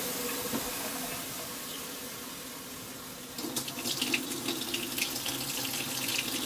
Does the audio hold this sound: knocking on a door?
no